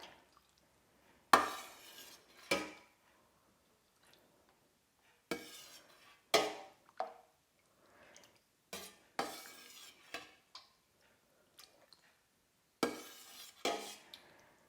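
Goat milk feta curds stirred in a metal pot, a utensil scraping and clinking against the sides in short, separate strokes with quiet pauses between them.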